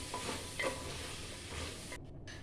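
Mixed vegetables for vegetable rice stirred in a pan, faint sizzling with a few soft spoon scrapes, ending abruptly in a brief dull patch, no voices.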